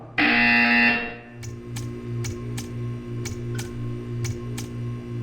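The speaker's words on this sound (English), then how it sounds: "You will hear a buzzer." A buzzer in the video game Portal 2 sounds once, a loud harsh electronic blare lasting about a second, followed by a low machine hum and a series of sharp ticking clicks.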